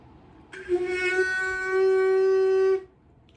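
A woodwind sustains a single clear A for about two seconds, entering abruptly and stopping cleanly, steady and rich in overtones against near silence.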